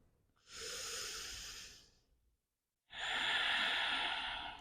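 Two deep, slow breaths taken during a yoga child's pose, a long airy inhale or exhale followed by a short pause and another full breath, close and unaccompanied.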